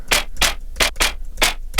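Dry, thin synth bass notes in a steady rhythm, five short plucked hits with bright attacks and quick decays, no reverb or added depth.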